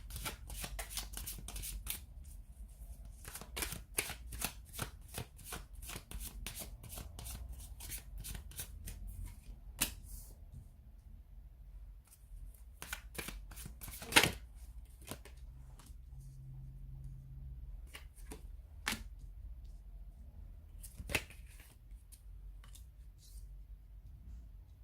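Tarot cards shuffled quietly and close up, with soft rapid riffles and flicks coming in irregular runs, plus occasional sharper taps as the deck is squared.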